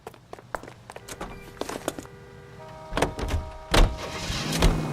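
Car in the video game L.A. Noire, with an engine rumble building and a couple of loud thumping impacts partway through, and a steady mechanical hum underneath.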